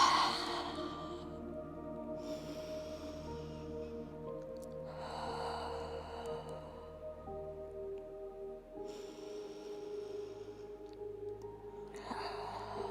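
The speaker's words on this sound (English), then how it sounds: "Inhaling through the nose and exhaling out the mouth." Deep breathing in a power vinyasa yoga class, with slow inhales through the nose and exhales out the mouth, soft airy swells recurring every few seconds over steady background music.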